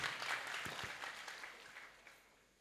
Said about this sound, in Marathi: अशा लाखलगावकरांचे टाळी वाजून आपण अभिनंदन करू.